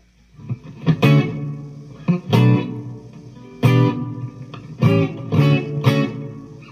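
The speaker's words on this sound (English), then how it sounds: "you can hear there's a lot more reverb" Electric guitar chords strummed in separate bursts through a Fender Mustang Micro, each ringing out with heavy reverb that lets the notes wash and linger between strums.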